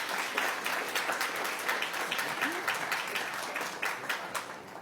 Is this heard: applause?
yes